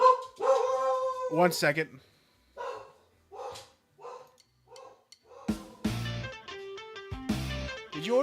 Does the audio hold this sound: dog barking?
yes